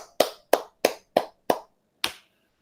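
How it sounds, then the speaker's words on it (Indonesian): Six separate hand claps for a group ring out in a quiet room. They come at a steady pace, with a short pause before the last one, and no talking. "Aplaus untuk kelompok 1."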